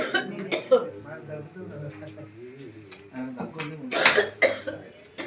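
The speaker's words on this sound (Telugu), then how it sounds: "దగ్గు కాలం దగ్గు వస్తుంది" A few sharp, close coughs break up a stretch of a person talking, with one short burst early and a couple more near the end.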